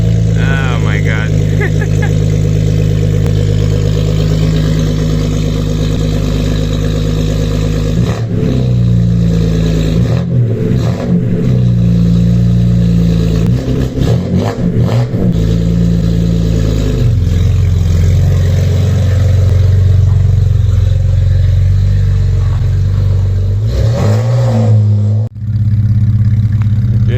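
BMW 525 E61 with its muffler deleted idling loudly, then revved several times, the raw exhaust note rising and falling in repeated blips before settling back to a deep, rumbling idle.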